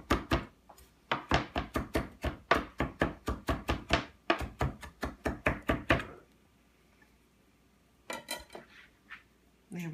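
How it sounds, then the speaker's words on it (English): Fresh garden parsley chopped with a knife on a board: a quick, steady run of close, sharp knocks for several seconds, a pause, then a short second burst of chopping. "And I'm going to give that just a little chop"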